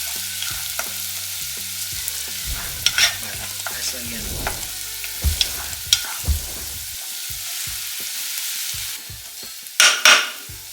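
Chopped onion sautés in melted butter in a pan for Filipino chicken macaroni sopas. A close, continuous sizzle is punctuated by repeated scraping and tapping stirring sounds, with a louder clatter near the end.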